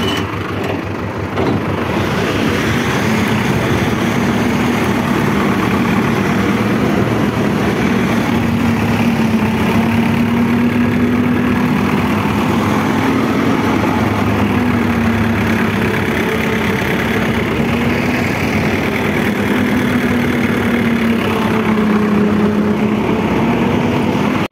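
A 5911 tractor engine idling close by, a loud, steady low rumble with an even throb that holds for the whole stretch, no talking.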